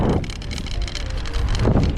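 Steady blustery wind buffeting the microphone, a broadband rushing roar that swells near the start and again toward the end.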